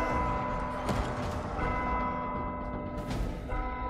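A bell is rung in the Warhammer Vermintide 2 video game, a continuous metallic ringing with layered overtones over a dense creaking, mechanical game backdrop, loud and steady throughout.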